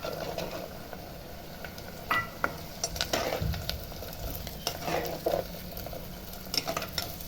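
Garlic added to onions already softening in a pan for a Tamil lunch curry, stirred amid a steady low sizzle with irregular scraping and clattering stirs from a spoon, no talk over it.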